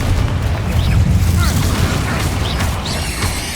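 A Confringo spell explosion in Hogwarts Legacy, a loud, continuous rumbling boom with heavy low-end roar and scattered crackles throughout, up close in a noisy combat mix.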